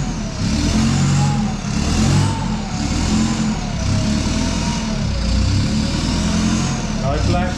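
A Nissan Patrol engine with new injectors and mods revs up and down repeatedly, loud and close, rising and falling in waves, with people talking over it.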